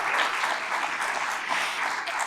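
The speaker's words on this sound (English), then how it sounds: "So give yourselves a round of applause." Steady applause from a conference audience after an Ontario opposition leader's address, a dense even wash of clapping throughout.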